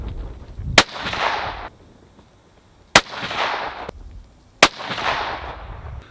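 A rifle fitted with an EC Tuner muzzle brake fires three loud, sharp shots spaced roughly two seconds apart on an outdoor range, each crack followed by a long booming echo that slowly fades.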